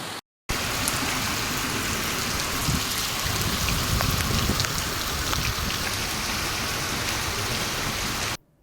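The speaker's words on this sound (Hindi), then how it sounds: "मुंद्रा में तेज हवाओं के साथ धुआंधार बारिश हुई।" Heavy monsoon rain with strong winds pours down in Mundra, Gujarat, a loud, dense, unbroken hiss of downpour that starts after a brief silence and cuts off just before the end.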